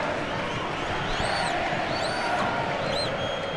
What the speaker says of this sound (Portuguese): Tá aí a torcida havaiana